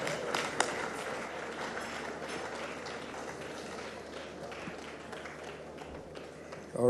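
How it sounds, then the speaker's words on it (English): Audience applause at an anniversary dinner in Abuja for UBA's 75th anniversary, a steady wash of clapping from a large room that continues evenly with faint voices underneath. "Can we put our hands together one more time?"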